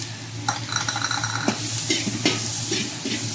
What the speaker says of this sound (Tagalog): gisa tayo sibuyas, bawang at saka kamatis